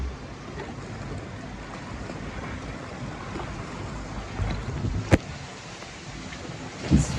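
A log flume ride at Holiday Park in Germany rushes through water in a steady, wind-blown wash of splashing spray, with a sharp knock partway through and another near the end.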